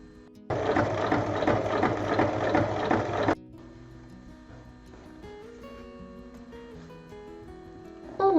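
A sewing machine stitches a long straight seam through fabric, a loud, fast, steady mechanical whirr lasting about three seconds. It stops abruptly, leaving quiet background hum.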